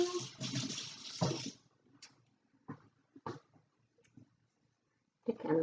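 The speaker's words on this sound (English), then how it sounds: "I'm just going to rinse my teaspoon." A teaspoon is rinsed under a kitchen tap, with faint running water in a short opening burst, a few quiet splashes and clinks, and the water returning briefly at the end.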